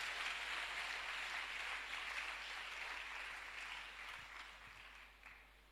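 A church congregation applauds at a French-language service, a sustained wash of clapping that starts full and slowly thins out over several seconds.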